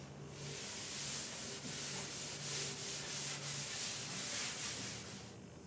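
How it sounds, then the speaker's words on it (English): A clean rag rubs excess Osmo oil off the surface of macrocarpa wood, giving a steady, soft broadband swishing that carries on continuously, near and fairly quiet, with no talking. "now we're going to rub off the surface with a clean rag to get rid of any excess"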